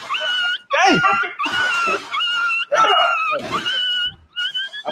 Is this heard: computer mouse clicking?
no